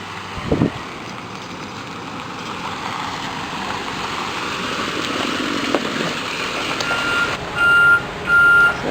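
A bus rumbles and hisses as it pulls up at a stop, then a series of loud electronic reversing beeps near the end.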